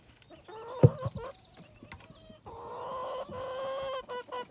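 Chickens cluck and squawk close by at morning feeding time, a busy mix of short calls and drawn-out squawks that swells toward the end, with no voices over them.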